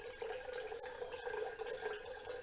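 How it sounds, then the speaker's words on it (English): Running water flows continuously, a soft steady trickling and splashing at low volume with no talking. "So let's focus now on the sound of running water"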